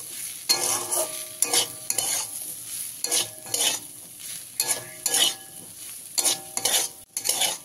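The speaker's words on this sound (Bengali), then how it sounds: "1 চামচ সরষে তেল দিয়ে দেবো, দিয়ে খুব ভালো করে মিশিয়ে নেব।" Rhythmic spatula scraping and stirring of spiced potato fry with mustard oil in a pan over a soft sizzle, repeated strokes at a steady pace, close and clear with no speech.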